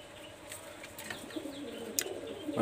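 Pakistani high-flyer teddy pigeon, number 128, cooing softly in a loft, with a few short chirps and faint wing-flutter against low background noise.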